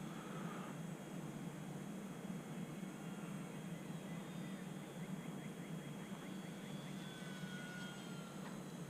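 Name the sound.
E-flite UMX Air Tractor RC plane flying slow and low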